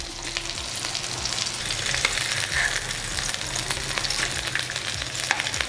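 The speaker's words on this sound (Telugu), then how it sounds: "ఇదే విధంగా కాస్త ఓపిక్గా నూనె తక్కువ వేసుకుంటూ ఇలా కాల్చుకోండి" Fish pieces shallow-frying in a pan with little oil over medium flame, a dense close sizzle and crackle throughout with faint occasional spatula movements.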